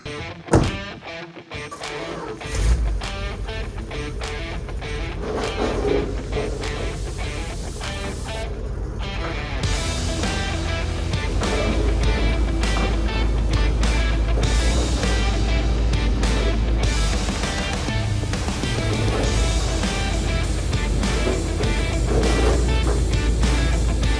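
A long-abandoned Dodge D-600 truck creeps along in low gear, starting with clunks and knocks, then a loud, steady, rumbling engine drone with rattling that builds and holds, close by, without talk.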